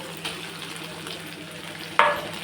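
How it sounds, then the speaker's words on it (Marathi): Freshly ground masala paste is dropped into hot oil for a Bhogi vegetable dish. There is a low, steady frying hiss, a faint stir or clink near the start, and a sharp sizzling burst near the end as the paste hits the oil. "आता हे तेलामध्ये आपल्याला मसाला टाकून घेऊ. हे वाटण केलेलं"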